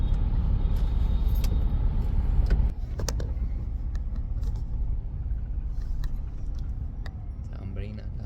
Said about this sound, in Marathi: आम्ही अडकलोय ट्रॅफिक मध्ये.